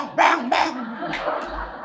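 A voice imitates a dog-bark phone ringtone, giving two quick, loud, yappy barks followed by softer trailing sounds in an indoor room.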